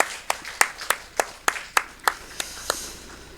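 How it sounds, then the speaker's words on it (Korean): Sparse, evenly spaced hand claps at a Sunday morning church service, about a dozen sharp claps from a small group, moderately close with no talking over them. "박수로 축복하겠습니다."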